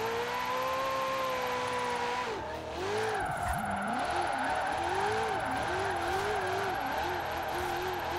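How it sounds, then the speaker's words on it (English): A high-revving Maserati sports car engine in Forza Horizon 4 whines as it climbs in pitch, dips, then warbles up and down with repeated throttle blips. Loud, steady, with no talk. "This engine actually really does make a good sound."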